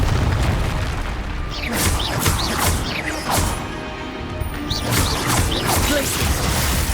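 Confringo blasting spell explosions in the video game Hogwarts Legacy, repeated booming bursts and crashes rolling one after another amid dense combat noise, loud and close, with voices calling out over them.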